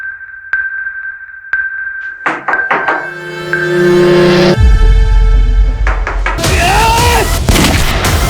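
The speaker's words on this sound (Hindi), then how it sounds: "पुलिस वाले पे गोली चला दी।" A few sharp gunshots ring out, followed by a rapid burst of loud cracks and then a heavy, booming roar that swells and lingers.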